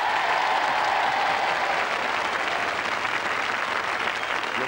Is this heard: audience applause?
yes